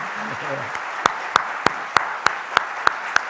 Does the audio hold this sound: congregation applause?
yes